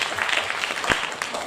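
An audience at a national theatre festival applauds in a steady, dense patter of many hands, heard alone with no voices over it.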